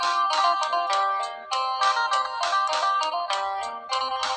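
A bright electronic notification bell chime plays in repeated ringing bursts, loud and steady, with no talking.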